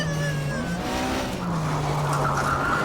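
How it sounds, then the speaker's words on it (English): Tires squeal loudly and steadily as a Porsche Mobil 1 Supercup race car slides sideways through a drift at Spielberg in the Race 07 game, the engine droning beneath a long sustained screech. "I was just drifting there a little bit."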